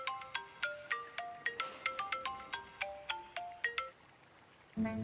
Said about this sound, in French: Saleté de téléphone, il veut pas arrêter de sonner un peu.